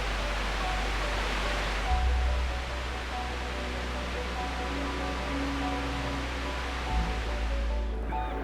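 A waterfall in a misty canyon in Central Vietnam roars as a steady, broad wash of falling water, constant and moderately distant, with low rumble underneath and no voices.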